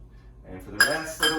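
Lotus Jade Pearl rice being mixed with water in a pot, giving two short bursts of scraping and clinking from a utensil against the pot, close and moderately loud with no talk.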